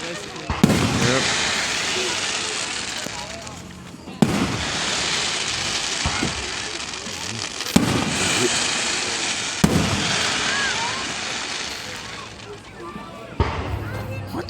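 A fireworks display in Marion, Indiana, 2024, with loud booming explosions and dense crackling that runs almost continuously, heavy bursts recurring every few seconds, while people talk nearby.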